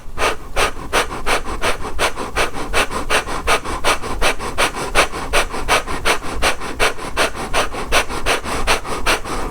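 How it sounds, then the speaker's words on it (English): Kundalini breath of fire: rapid, forceful nasal breathing pumps in and out at about three breaths a second. Each breath is sharp and close, and the rhythm stays even and unbroken throughout, with no voice over it. "we are going to do the breath of fire for 1 to 3 minutes."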